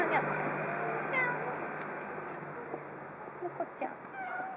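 A cat meows a few times indoors, soft and fairly close, over a steady background hiss while someone talks to it.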